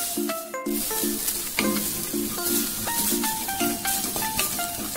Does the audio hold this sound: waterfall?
no